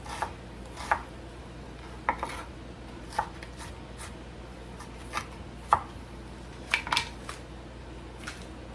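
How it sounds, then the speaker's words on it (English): A knife chops tomatoes for taco bowl toppings on a cutting board, sounding as a dozen or so sharp, irregular taps spaced about a second apart, close and moderately loud with no talking. "And then I'll cut up the tomatoes."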